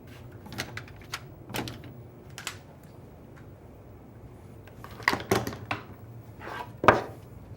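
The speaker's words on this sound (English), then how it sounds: "Just going to grab some clamps." Woodworking clamps being picked up and handled in a cabinet-making shop, heard as scattered faint metallic clacks and knocks at an uneven pace, growing louder toward the end.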